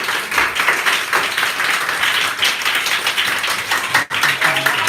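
A crowd claps steadily at a charity donation event for children at the Enough Grace Foundation, dense and continuous applause holding at an even level with one brief dip near the end.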